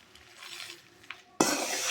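A metal spoon scrapes and clinks against a pan while spices for idli-dosa podi are stirred and dry-roasted, ending in a louder burst of rustling, close and without talk.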